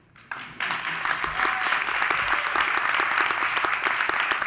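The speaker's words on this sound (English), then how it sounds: "You may all applaud." Applause for a graduating class at a health sciences commencement rises quickly from quiet to full, steady clapping that continues at an even level to the end.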